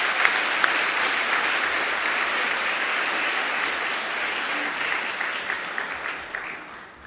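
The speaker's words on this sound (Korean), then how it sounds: "덩달아서 박수 받았네요" Church congregation applauding to welcome a pastor, a dense steady wash of clapping from a crowd in a hall that slowly thins out toward the end.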